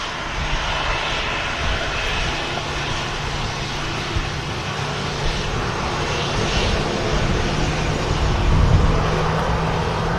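A Ryanair Boeing 737 taxis at Manchester Airport, its jet engines giving a steady broad roar with a low rumble that swells slightly near the end; continuous, moderately distant, no talking.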